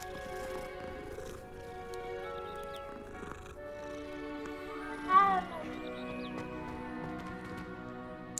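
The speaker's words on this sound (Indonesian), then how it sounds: "Ah, kucing ternyata." In Hogwarts Legacy, a cat gives a single clear meow midway through, rising briefly above steady background game music and ambience.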